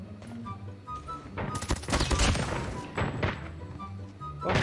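Gunfire in a Call of Duty match with players using sniper rifles: several loud, sharp bursts and thuds clustered in the middle and end of the clip, set against game background sound.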